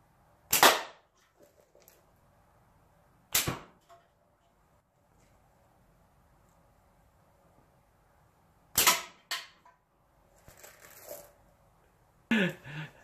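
Sharp slingshot shots from a maple frameless slingshot with latex bands, several loud cracking snaps spaced apart with short follow-up impacts, heard close with no talk.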